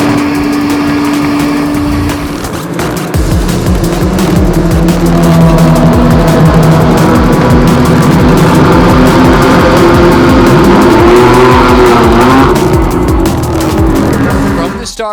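GT4 race cars roar away from a green-flag race start at Circuit of the Americas, a loud sustained engine drone building with shifting pitch as the pack accelerates, with talk over it.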